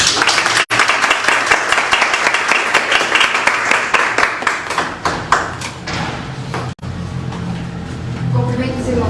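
A church congregation breaks into applause during a worship service, a dense, loud roll of many hands clapping that thins out toward the end, after which a voice speaks.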